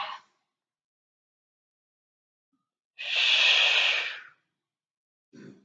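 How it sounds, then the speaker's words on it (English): A Pilates instructor breathes during a mat exercise: a short breath at the start, one long, loud, airy exhale about a second long near the middle, and a brief breath at the end, close to the microphone. "And inhale to exhale."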